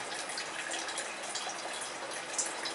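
Cooling water running through the two condensers of a 4-inch still, a steady close hiss of flowing, trickling water with no pauses.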